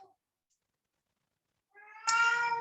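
After a near-silent stretch, a single loud, drawn-out cat meow rises up close.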